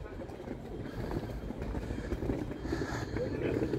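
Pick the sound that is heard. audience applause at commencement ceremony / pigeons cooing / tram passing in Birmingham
tram passing in Birmingham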